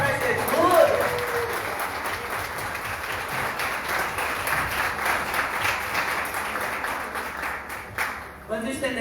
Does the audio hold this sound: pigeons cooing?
no